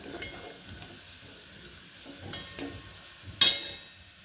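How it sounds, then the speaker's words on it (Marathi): Turmeric and red chili powder are sautéed in a pan, with a soft sizzle under occasional stirring scrapes and one sharper utensil clink against the pan. "हळद एक चमचा लाल तिखट हे छान परतून घ्यायचं"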